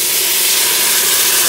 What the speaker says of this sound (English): Cook the pot, you see the steam come up.